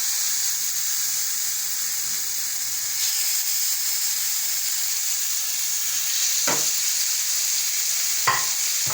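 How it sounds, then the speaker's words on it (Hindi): Afghani boti shallow-frying in a non-stick pan over a low flame, a steady gentle sizzle and hiss with two short knocks of a utensil near the end. "इसको धीमी आंच पे शैलो फ्राई लाइक करना है"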